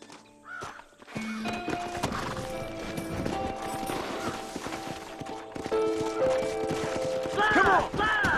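Horse hooves clip-clopping in the Western video game Red Dead Redemption, irregular thuds and clatter over music and ambient game sound, with brief vocal sounds near the end.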